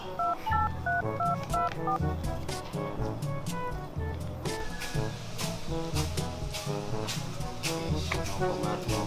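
A touchscreen slider phone being used to dial a number, producing a rapid series of loud, close keypad tones that step through different pitches over a busy, steady background.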